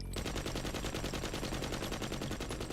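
Sustained automatic fire from an RPK machine gun in a True Detective shootout scene, a loud, dense, unbroken rattle of rapid shots from start to finish.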